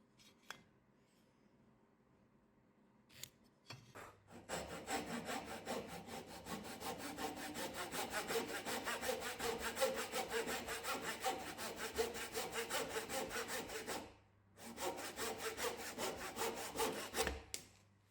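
A hand saw cuts an angle off the straight edge of a wooden try square, a long run of rapid rasping back-and-forth strokes after a few light taps, pausing briefly before a final burst of sawing.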